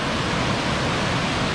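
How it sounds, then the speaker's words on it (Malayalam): A small waterfall in a rocky border village spot, water pouring steadily into a stream, a dense continuous rushing hiss heard close and loud with no voices. "ഇവിടെ ഒരു വെള്ളച്ചാട്ടം ഉണ്ട്, ചെറുതായിട്ട് വെള്ളക്കിലേക്ക് ഒഴുകി പോകുന്നുണ്ട്"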